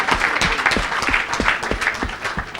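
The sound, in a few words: audience applauding for the people of Brussels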